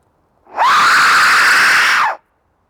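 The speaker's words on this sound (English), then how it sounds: "copy that scream" A single loud, high scream rings out in a haunted forest at Cannock Chase during a ghost hunt. It rises sharply, holds for about a second and a half, then cuts off into silence.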